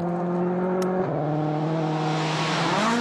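WRC rally car engine from the 2009 World Rally Championship, loud and sustained, holding a steady high-revving tone, dropping briefly as a gear changes, then climbing again while a rival car is overtaken for third place.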